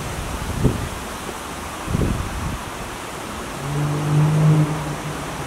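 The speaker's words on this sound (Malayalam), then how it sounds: "നല്ല കാറ്റ് വീശിട്ടുണ്ട് കേട്ടോ പുറത്ത്" Wind blows steadily outdoors as a soft, broad rushing that runs throughout, with a few faint thumps and a short low hum near the end, and no voices.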